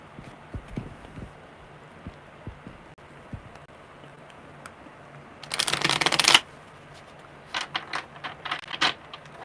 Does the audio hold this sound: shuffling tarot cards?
yes